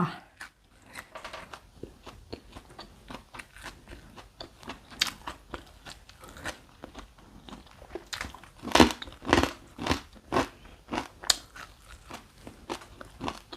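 Crispy pork, partly crunchy and partly chewy, is bitten and chewed up close in a series of sharp, irregular crunches that grow louder and denser toward the end.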